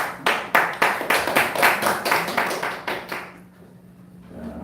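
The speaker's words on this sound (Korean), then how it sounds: "박수 한번 쳐주세요." An audience at a church spiritual seminar claps in unison, about a dozen loud, evenly spaced claps in a steady rhythm that stop abruptly and leave a quiet room.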